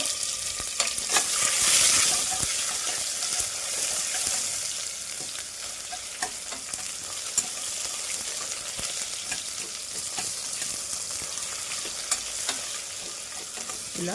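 Ingredients sizzle steadily in a pan for amaranth leaf pulao, a continuous close frying hiss with occasional stirring clicks and scrapes, no voices.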